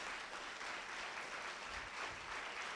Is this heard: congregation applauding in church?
yes